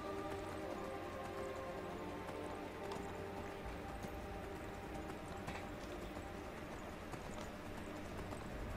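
Horse hooves clip-clop steadily in Skyrim, a continuous trotting rhythm under busy game ambience, with no talking.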